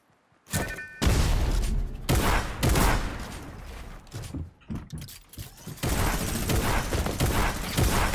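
Rapid automatic gunfire in Fortnite, loud bursts of shots that break off briefly and then resume in dense, clattering volleys at close range.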